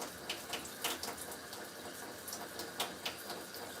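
Tap water runs into a sink while rice is washed for a one-pot dish, a soft, steady splashing stream with faint intermittent sloshes and clinks, heard alone at low volume.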